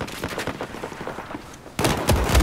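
A big gun in a video game fires heavy, booming shots that cut in sharply partway through, loud and close over a busy rumbling game background.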